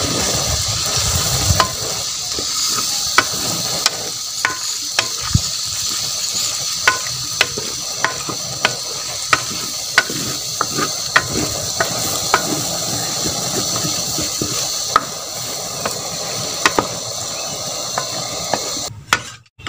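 Potatoes and eggs are stirred in a hot pan, with a spoon scraping and clicking against the metal in a steady, irregular rhythm over a continuous sizzle of frying for about twenty seconds, close and moderately loud, with no talking.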